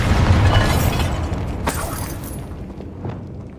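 Bombarda explosion spell going off in Hogwarts Legacy, a loud booming blast with a sharp crack near the middle, then a fading rumble with scattered debris pops.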